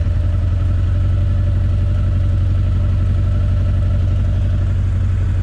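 Honda CB 900 motorcycle engine idling at around 1,000 rpm, a loud, close, steady rumble with even pulsing firing beats, with no clear rise in revs.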